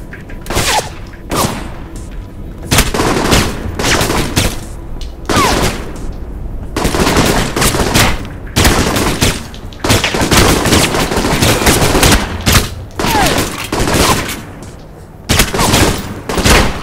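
Video game gunfire in Alpha Protocol: loud bursts of rapid automatic fire and single shots repeat through the whole stretch, separated by brief gaps.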